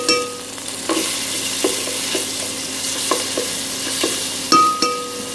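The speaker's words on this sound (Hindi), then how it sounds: "सबसे पहले अदरक लहसुन का पेस्ट डाल देंगे।" Ginger garlic paste sizzles in a hot pan while a spoon stirs it, scraping in sharp repeated strokes roughly every second over a steady close frying hiss, cooking the base for pav bhaji.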